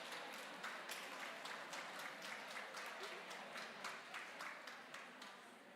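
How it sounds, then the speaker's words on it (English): A group claps together in a classroom, a steady run of rhythmic hand claps at moderate distance that stays fairly quiet with no voices on top. "Thank you, my early childhood partners, for introducing some classroom clapping"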